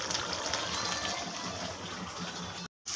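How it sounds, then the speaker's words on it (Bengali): Water or broth gushes steadily into a pan of braised meat and potatoes, a continuous close splashing pour with a brief break near the end. "এবার ঝোল দেওয়া হচ্ছে।"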